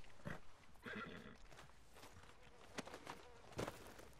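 Red Dead Redemption 2 horse sounds: a couple of sharp neighs and whinnies over scattered hoof clops on the ground, close and fairly quiet, with short bursts and pauses between them.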